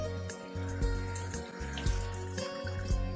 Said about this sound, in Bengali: মশলাটা আমার কষানো হয়ে গেছে, এখন এটাতে আমি জল দেব।